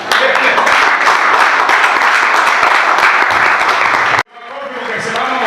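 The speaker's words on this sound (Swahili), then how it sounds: "patie Yesu makofi mazuri na vigelegele vizuri" Church congregation applauding and ululating at a thanksgiving service at a mission centre in Lodwar, a dense continuous roar of clapping that cuts off abruptly, then faint crowd noise and voices rising again.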